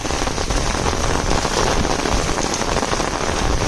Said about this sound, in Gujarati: એટલો વરસાદ છે.